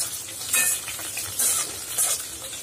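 Prawns 65 in batter fry in hot oil with a steady close sizzle, while a utensil stirs the pan in three brisk scraping strokes.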